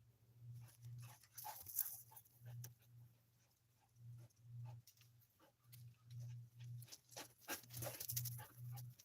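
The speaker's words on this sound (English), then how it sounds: "Y'all hear that running around? They're my dogs." Several dogs scamper around a homestead strawberry bed, panting and pattering close by in a busy, uneven rhythm with small whimpers, fairly quiet throughout.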